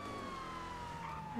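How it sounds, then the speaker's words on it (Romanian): A police car siren wails continuously in GTA Online, a loud steady electronic tone sliding slowly downward, with engine noise beneath it. "Am băgat sirena, capitan."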